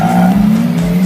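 A car engine holds a loud, steady high-pitched drone with a sustained tire squeal layered on top, continuous and close for the whole second, with no talk.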